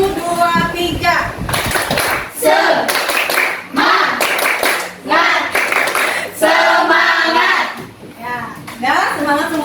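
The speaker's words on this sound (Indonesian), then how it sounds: "kita ice breaking dulu, tepuk semangat" A school class performs the rhythmic tepuk semangat clapping chant, bursts of sharp hand claps in patterned groups alternating with children chanting together, loud and close in a classroom.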